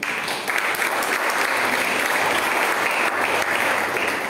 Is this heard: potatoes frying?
no